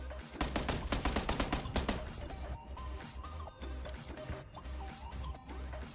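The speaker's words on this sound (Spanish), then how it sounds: "Me están disparando, ¿eh? Y no sé de dónde." A rapid volley of automatic gunfire rattles close and loud against the player in PUBG Lite, then gives way to scattered quieter shots and game noise with a low rumble.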